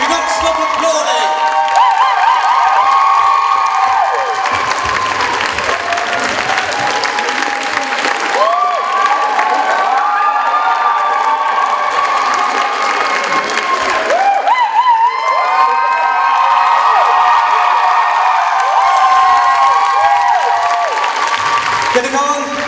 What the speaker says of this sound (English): Do not stop applauding.